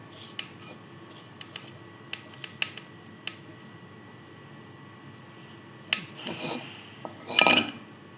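Sweet potato barfi mixture being scraped out of a kadhai with a utensil produces sharp metallic clicks and taps at irregular intervals, close and distinct, ending in a louder burst of scraping.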